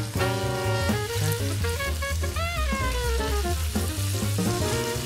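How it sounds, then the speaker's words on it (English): Sausage frying in butter in a pan until browned, giving a steady, close crackling sizzle throughout, with no talking. "So the sausage has been cooking for about 8 to 10 minutes, and we just wanna get it brown and cooked through."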